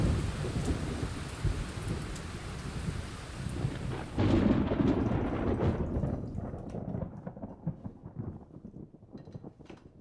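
A thunderstorm with rain: heavy rain hisses steadily while a loud, close rumble of thunder breaks out midway and slowly rolls off into quieter rain.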